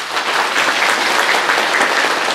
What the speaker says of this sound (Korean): 박수하십시오.